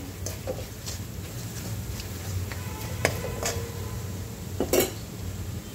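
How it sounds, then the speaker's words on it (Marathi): Cumin and coriander powder being sautéed in a pan for dal kanda, heard as soft sizzling with scattered metallic clinks and scrapes of a spoon against cookware, fairly quiet and close. "आता हे छान परतून घ्यायचं 2 मिनिटं मसाले"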